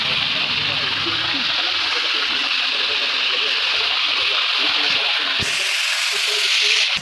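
Pork frying in hot oil, second batch going in: a loud, steady sizzle and crackle of spattering grease fills the whole stretch, growing brighter near the end, with voices faintly mixed in.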